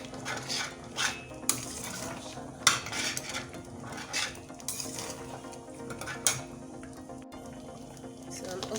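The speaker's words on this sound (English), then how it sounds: "Add the perewinkle, I'm going to stir." A spoon scrapes and clinks inside a pot of ogbono soup with periwinkle in irregular strokes, close by, with faint kitchen background.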